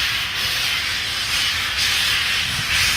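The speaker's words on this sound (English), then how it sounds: "That's the world's most famous train." A steam train releases a loud, continuous hiss of steam that stays steady and close throughout, with no voices.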